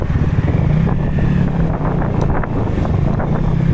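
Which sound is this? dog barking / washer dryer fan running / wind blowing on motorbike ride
wind blowing on motorbike ride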